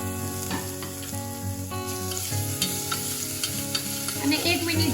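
Ginger-chili-garlic paste sizzles with cumin seeds in a hot pan, a steady close frying hiss broken by scraping stirring strokes, with no voices.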